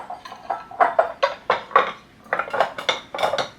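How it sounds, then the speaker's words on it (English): Pottery bowls knocked and stacked in a kitchen cupboard: a quick run of close, bright ceramic clinks and clacks, about a dozen in uneven rhythm, with no talking. "so these are my pottery bowls"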